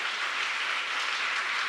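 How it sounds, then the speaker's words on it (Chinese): A church congregation at a Sunday service bursts into warm applause, a dense, steady wash of many hands clapping at once that holds evenly throughout without any speech. "来，热烈的掌声鼓励一下"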